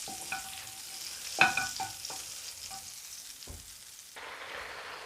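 Spices fry for a kaleji (liver) masala tadka, sizzling and crackling in a pan, with scraping stirs and clinks of a utensil, ending in a brighter burst of sizzling.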